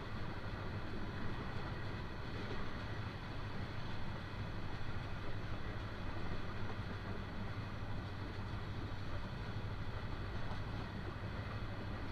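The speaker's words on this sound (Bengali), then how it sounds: "কাঙ্ক্ষিত ট্রেনটি কিন্তু টঙ্গী রেল স্টেশনে কিন্তু প্রবেশ করলো।" The Teesta Express, hauled by locomotive 707, rolls into Tongi railway station without stopping, giving a steady, loud rumble and droning hum of wheels and engine that stays constant and close for the whole stretch.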